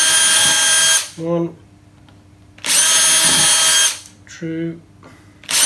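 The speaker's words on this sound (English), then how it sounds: "I'm gonna make sure I don't drill into my bench. And it's just a little hole through." Power drill boring a small hole through a board on a workbench, loud whirring bursts that start and stop twice, close up, with a man counting aloud in the pauses.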